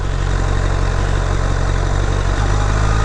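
Honda CBR1000RR motorcycle engine running steadily, a loud continuous drone with a low rumble and no break, close to the microphone and without talk.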